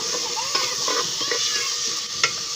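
Masala spices sizzling in a pan over a strongly burning fire, a loud steady crackling hiss with quick stirring scrapes, close up and alone without talk.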